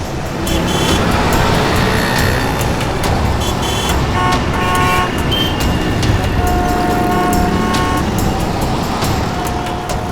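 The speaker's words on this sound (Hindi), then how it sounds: "अरे यार ये गाड़ी भगा रहा है।" A car speeds away through busy traffic at a crime scene in a CID crime drama, its steady loud engine and road noise running throughout with horn toots and street bustle mixed in.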